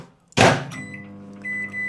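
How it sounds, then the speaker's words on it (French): A microwave oven reheating food in a home kitchen: a loud thunk of the door or start button, then a steady low hum with a faint higher whine, alone without talk. "1h30 au micro-ondes."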